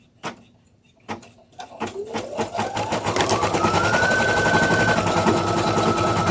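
Sewing machine stitching in hot pink thread, starting with a few separate clunks and then building into a steady rapid stitching drone with a rising motor whine, loud and close.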